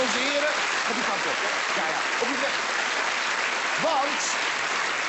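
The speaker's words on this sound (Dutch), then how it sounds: "Geef een hartelijk applaus, onze heren." Steady, dense applause from a wedding audience fills the whole stretch at a constant loud level, with a voice talking over it.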